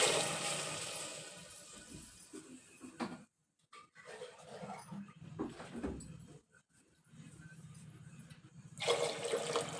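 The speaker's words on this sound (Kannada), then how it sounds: "ಅರ್ಧ ಕೆ ಜಿ ಅಕ್ಕಿ ನಾನು ಇದರಲ್ಲಿ 2 ಸರಿ ನೀರು ಹಾಕೊತೀನಿ ರೀ" Water pours and splashes into rice for a hotel-style vegetable pulao in a couple of uneven bursts with gaps between them, close and fairly quiet.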